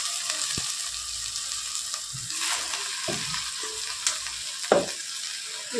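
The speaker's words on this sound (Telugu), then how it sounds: "కొంచెం రెడీ పెట్టుకున్న తోటకూర మొత్తం వేసేస్తున్నాను" Amaranth leaves fry in a pan with sizzling steam, while a spoon scrapes and stirs in several distinct strokes, fairly close, with no talk.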